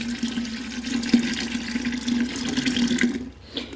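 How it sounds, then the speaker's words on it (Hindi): Cold water poured from a tap into churned butter and buttermilk, a continuous splashing stream with a steady low hum underneath, close and fairly loud, cutting off near the end, with no talk. "इसमें हमने ठंडा पानी ऐड किया।"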